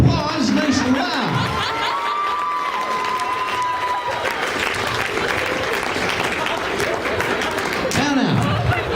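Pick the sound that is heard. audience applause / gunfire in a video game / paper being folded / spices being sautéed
audience applause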